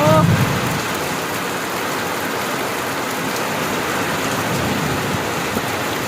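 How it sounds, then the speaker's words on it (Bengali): Steady rain pours down around a rooftop in a continuous, even hiss, loud and close, with a brief voice at the very start. "কি বৃষ্টি হচ্ছে দেখো"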